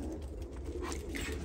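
Pigeons on a Turkish breeding farm coo softly and repeatedly, their low throaty calls layered over a steady ambient hum in an enclosed loft.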